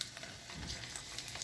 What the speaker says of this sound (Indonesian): We deep fry the emping right now.